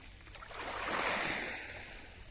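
Calm Mediterranean Sea waves at Mersin, Turkey, on a still morning: one soft swell of surf rises to a gentle wash in the middle, then fades back to a quiet, steady hush.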